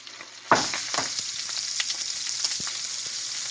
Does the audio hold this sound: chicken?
yes